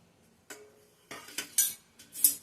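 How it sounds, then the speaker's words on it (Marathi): Thick poha dropped into a kadhai and stirred for roasting, heard as a few distinct dry scraping and clinking strokes against the metal after a quiet start, close and fairly crisp. "हे पोहे आता मी ह्या कढईत घालते आणि भाजून घेते"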